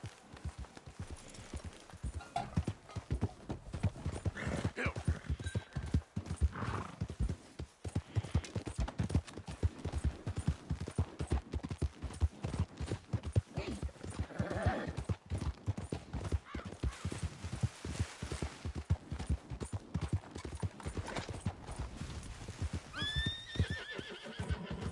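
Galloping horse hooves pound rapidly and continuously in Red Dead Redemption 2, close and fairly loud, with occasional neighs breaking through the rhythm.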